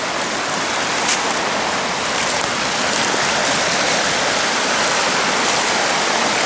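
A small river, the Glomsinjoki, flows in winter with a continuous close rushing and babbling that stays loud and even throughout, with no voices.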